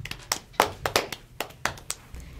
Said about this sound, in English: The cheer of the week is a round of applause